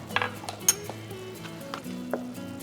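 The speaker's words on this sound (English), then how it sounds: "I'm going to mix some cornstarch" A measuring spoon stirs cornstarch into a little beef broth in a small dish, giving light repeated metallic clinks and scrapes at an irregular rhythm, close up, with soft kitchen background hum.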